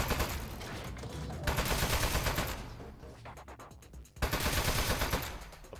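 Loud bursts of automatic gunfire from gun-toting appliances in the video game Aperture Desk Job rattle in dense volleys, pause briefly with a few separate cracks, then resume at full strength.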